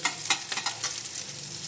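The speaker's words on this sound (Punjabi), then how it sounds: "ਅਸੀਂ ਬਸ 1 ਮਿੰਟ ਹੀ ਭੁੰਨਣਾ ਇਹਨੂੰ ਪਿਆਜ਼ਾਂ ਨੂੰ" Onions frying in a pan for a masala arbi dish. A soft sizzle runs throughout, with a few quick scraping stirs near the start. Nobody speaks.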